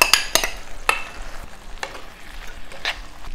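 Basmati rice is tipped into a pan of vegetable pulao and stirred: a few sharp clattering scrapes up front, then softer intermittent stirring over a low sizzle, close and without speech.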